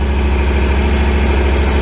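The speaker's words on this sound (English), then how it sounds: "once you let those levers out, the mower is going whether you're ready or not" An Exmark mower engine runs close by at a steady idle, a loud, even low rumble with a fine pulsing throb and no other sounds.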